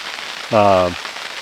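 Steady rain falling on a snowy campsite in Pennsylvania, a constant soft hiss of drops throughout, briefly overlaid midway by a short low tonal hum.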